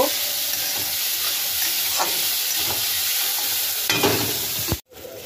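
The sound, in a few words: frying ginger and chillies together in a pan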